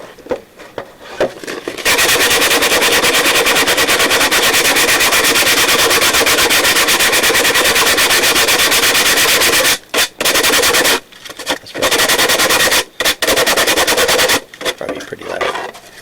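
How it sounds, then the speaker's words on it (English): Sandpaper rubbed hard against a wooden fish tail piece, a loud harsh continuous scratching that runs for several seconds, then breaks into short bursts with brief pauses. "Now the tail needs a bit of sand. Grab a piece of sandpaper."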